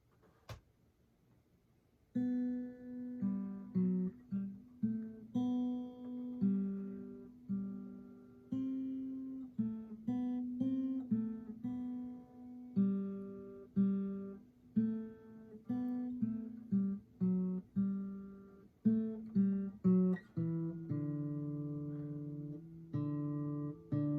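Solo guitar plays the B part of the Minuet in G, a longer melodic passage: quick plucked notes at an even pace, some held notes, and clear close tone throughout without any voices.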